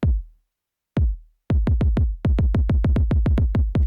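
Kick drum slice processed through the Drum Clone plugin: two clean isolated thumps, then a rapid even run of punchy kick hits playing close and dry.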